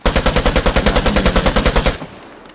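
Full-auto bursts from an AKM rifle in the video game Vigor: about twenty rapid, evenly spaced shots in one sustained, loud string lasting two seconds, then cutting off into a brief fading tail.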